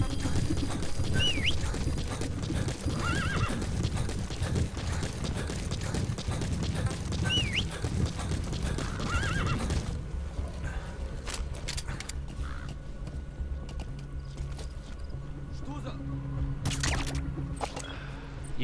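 D-Horse from Metal Gear Solid V gallops with steady clip-clop hoofbeats over game ambience, a couple of short neighs rising above, before the hooves drop away into quieter background for the last stretch.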